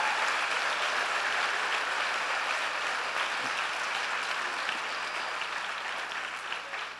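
A church congregation applauding during a worship service, a broad, continuous roar of many hands clapping that holds steady and eases slightly at the end, with no voices on top.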